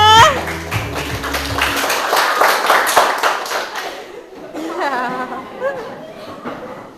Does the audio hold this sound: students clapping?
yes